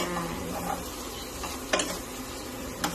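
Onion frying in a pan, a quiet steady sizzle close by with a few sharp stirring scrapes and clatters over it.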